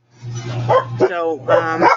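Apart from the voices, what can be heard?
dog barking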